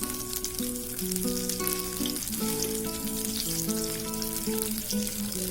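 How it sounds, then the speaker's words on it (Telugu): Eggs sizzling in a pan with a little chili powder for a mushroom egg biryani. A steady hiss of frying plays under louder background music, with no talking. "ఎగ్స్ అన్ని ఈ విధంగా వేసుకొని ఫ్రై చేసుకున్నాము"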